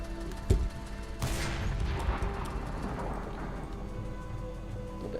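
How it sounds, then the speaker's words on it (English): A French tank's secondary gun fires in War Thunder, a sharp single report followed by another louder blast with a long rumbling decay, over a constant low engine drone. "Let's just fire a blind shot with the secondary gun there."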